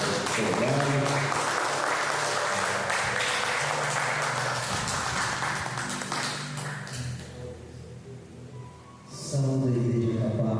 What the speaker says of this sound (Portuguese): Uma salva de palmas para o nosso convidado